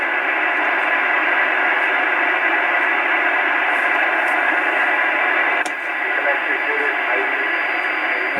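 An Icom 730 transceiver tuned to 80 meters on an outdoor antenna, through an MFJ 969 tuner, gives off a steady hiss of band noise. A faint, distant voice sits barely above it, with a brief dip near the end.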